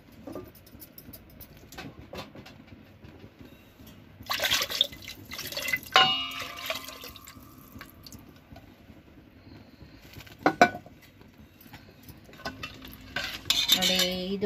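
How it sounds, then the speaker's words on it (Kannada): A spoon scrapes and clinks around a pot of horse gram saru just after water is added, with intermittent metallic knocks and stirring bursts over a quiet simmering background, fairly close and without speech. "ಈಗ ಇದಕ್ಕೆ ಒಂದು ಸ್ವಲ್ಪ ನೀರು ಹಾಕಿ ಕೂಡ ಹಾಕ್ತಾ ಇದ್ದೀನಿ."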